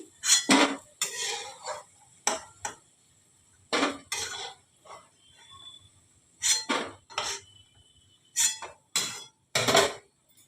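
Pan of Bengali dal pakoda coming off a gas stove, with a series of loud metallic clanks and scrapes of utensils against the pan in separate bursts, close up and without speech.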